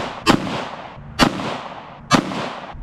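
Three sharp pistol shots from an FN Five-seveN firing 5.7x28 mm 40 grain FMJ rounds, spaced about a second apart, each a loud crack followed by a short fading echo at an outdoor range.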